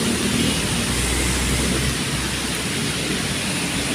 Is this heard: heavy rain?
yes